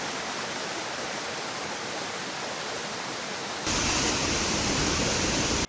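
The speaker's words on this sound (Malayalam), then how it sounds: "അപ്പോൾ അതെ അവിടെ ചെറിയൊരു വെള്ളച്ചാട്ടം കാണാം" A small waterfall spills through a rocky stream in a Kerala village, giving a constant broad rushing roar that grows noticeably louder and closer partway through.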